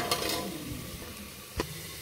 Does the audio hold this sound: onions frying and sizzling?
yes